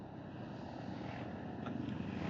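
A camera drone flies in the open air over Batangas, with Taal and a subdivision nearby. Its steady buzzing whine drones on continuously for the whole stretch, moderately loud, with no talk.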